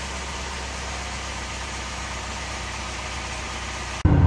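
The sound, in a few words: 2008 Chevy Cobalt engine running after crankshaft installation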